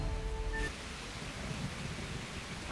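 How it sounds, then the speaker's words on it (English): Rain with thunder from the Blade & Soul video game: a steady broadband wash of falling rain under a low rumble, with a brief tonal sound at the start, heard alone without voices. "Master, we should get inside before the rain gets any worse."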